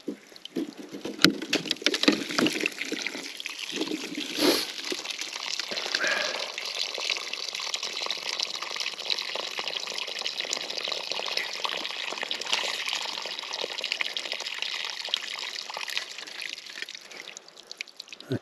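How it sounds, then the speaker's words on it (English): Water rushes steadily out of a newly installed waterline, a continuous hissing gush lasting the full stretch with a few sharp knocks early on. "A little water in the line. Should quit pretty quick."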